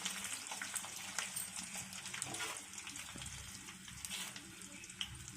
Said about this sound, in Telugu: ఫ్లేవర్ వచ్చేంత వరకు వేగిన తర్వాత ఎండుమిరపకాయలు వేసుకోవాలి